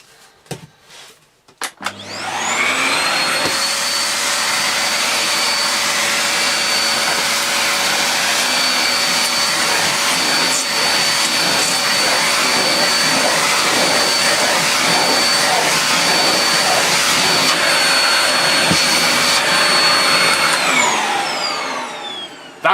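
An AmazonBasics bagless cylinder vacuum cleaner with its upholstery tool runs loud and steady with a high whine, starting up after a few knocks and winding down at the end, with no talking.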